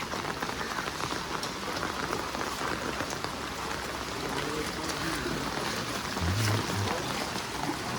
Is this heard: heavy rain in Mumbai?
yes